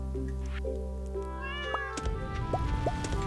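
A cat meows a few times in the video game Stardew Valley, short tonal calls over steady game music, with a brief soft rustle near the end.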